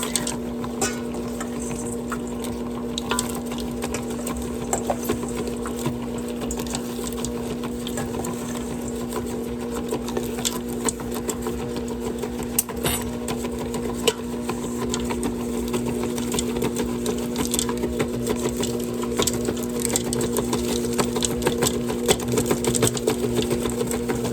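Ankarsrum stand mixer with its beater assembly working cowboy cookie dough, giving a steady mechanical whir with a constant tonal drone and faint irregular clicks, close and continuous for the whole stretch without talk.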